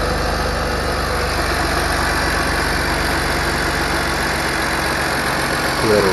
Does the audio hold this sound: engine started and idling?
yes